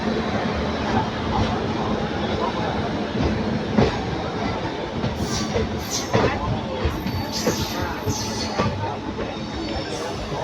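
Passenger train pulling out of Karur station, its wagons rumbling and clattering with rhythmic clickety-clack on the rails, heard from aboard with faint background voices.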